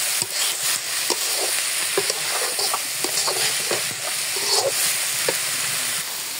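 Banana flower cooking with shrimp sizzles loudly in a pan over heat, with a steady frying hiss broken by frequent scraping and stirring clatters.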